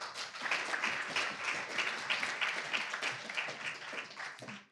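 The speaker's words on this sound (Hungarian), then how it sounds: "Kérem, tapsoljuk meg." A conference audience applauds in a hall, a dense, steady burst of many hands clapping for about five seconds before it quickly fades out.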